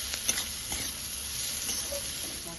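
Ground cumin, coriander and chilli powder sizzle softly in a pan while being stirred, a steady low hiss with a few light scraping taps, close and without talk.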